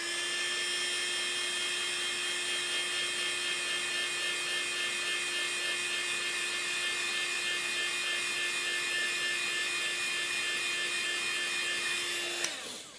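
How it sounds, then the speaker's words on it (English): A heat gun blows steadily on 3D printed diecast truck accessories, a constant high whine and airy hiss holding unbroken for about twelve seconds before cutting off with a click. "I'm going to hit this with the heat gun"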